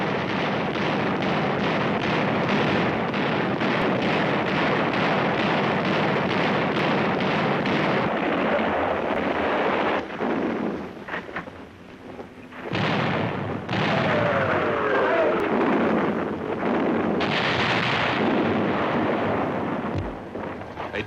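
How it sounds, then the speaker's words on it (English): Heavy naval guns fire from ships close to shore at Japanese positions in a Pacific war battle, a long barrage of deep booming blasts and rumbling explosions that keeps up in thick repeated bursts. "The vessels move almost to the shore to fire point blank into the Japanese positions"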